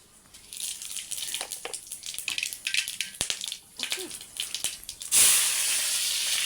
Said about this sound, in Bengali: কড়াই তেল গরম হয়ে গেছে, জিরা এলাচ দারচিনি এগুলা দিয়ে দিলাম।